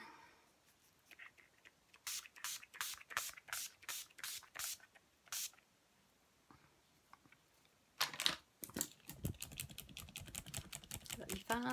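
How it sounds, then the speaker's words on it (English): A can of Urban Decay De-Slick setting spray is shaken with a run of quick rattling clicks, then sprayed in several short hissing bursts. Everything sounds faint and close. "I'm going to use a wee bit of my Urban Decay De-Slick spray, give it a good shake"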